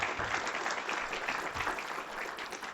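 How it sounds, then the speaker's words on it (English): Fairly quiet applause at a Pima County Board of Supervisors meeting: a room of people clapping steadily for a few seconds, moderately distant and even, with no voices standing out. "Let's give a nice round of applause to all those folks who work so hard for us."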